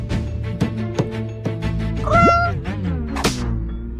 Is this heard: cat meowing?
yes